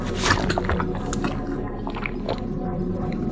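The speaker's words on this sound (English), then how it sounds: "So you take a big gulp of water." Wet swallowing gulps of water drunk from a jug, close and fairly soft, a few squishy swallows over a low steady background.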